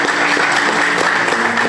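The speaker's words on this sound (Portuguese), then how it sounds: "Você pode aplaudir o Senhor." A church congregation claps loudly and continuously, a dense, steady wash of applause filling the room.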